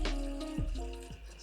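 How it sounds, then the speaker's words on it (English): Filtered water from a sink tap pours into a gooseneck kettle, a close, continuous stream with gurgles and a rising fill tone. "I'm gonna fill up with some water right here from my sink. Some filter water, by the way."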